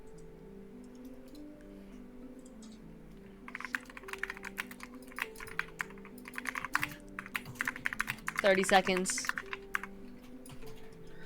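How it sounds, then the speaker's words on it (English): Rapid clattering of computer keyboard keys during a timed online game, the typing bursts growing busier and louder toward the end, with people talking over it. "I can't type as fast as everybody else is typing"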